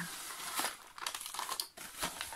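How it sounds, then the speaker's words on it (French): Paper crinkles and rustles as items are pulled out of a paper envelope from a premium scrapbooking Advent calendar, a few close, soft crumpling bursts with short pauses. "Par contre, je sors de l'enveloppe."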